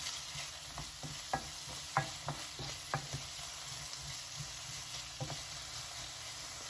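Chopped onion frying in a pan for Greek cod saganaki, a quiet steady sizzle punctuated by several sharp scraping stirs of a utensil against the pan, close up and without talk.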